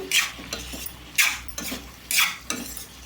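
A spatula scraping and stirring ridge gourd pieces with raw moong dal in a pan, four rhythmic scraping strokes with light clinks, close and clear.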